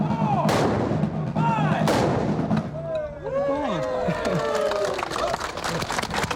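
Rifle volleys at a historical re-enactment in Ballarat, two sharp cracking blasts in quick succession with echoing tails, followed by crowd murmur and a shouted command.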